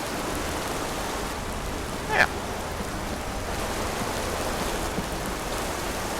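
Waterfall in the video game Skyrim, a steady broadband rushing wash of falling water heard close and continuous, with a brief sharp click partway through and a short spoken word over it.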